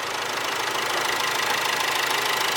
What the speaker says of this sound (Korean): 엔진 소리 굿인데?